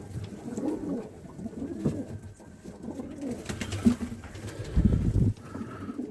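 Pigeons or doves coo softly outdoors in a series of low, rounded calls, with rustling and a louder burst near the end, at moderate distance.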